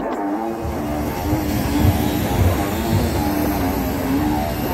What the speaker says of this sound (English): We're going for a heli ride